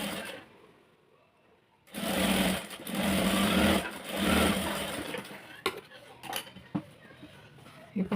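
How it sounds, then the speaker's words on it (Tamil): Sewing machine stitching the lining of a sleeve, a close continuous whirring burst after a quiet start, followed by a few sharp clicks and taps with brief talk. "இப்போ சுற்றி ஒரு தையல் போட்டு"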